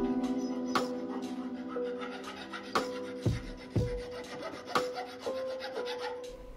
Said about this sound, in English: Unfortunately, the U-bolts were just a little too long, so we had to do a little bit of cutting.